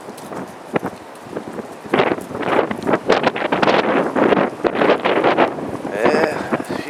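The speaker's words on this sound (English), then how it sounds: "Sure is a windy one here" High wind outdoors in Michigan, with tree limbs down and debris blowing, comes in loud gusty bursts that buffet the microphone, rising and falling irregularly while a person talks.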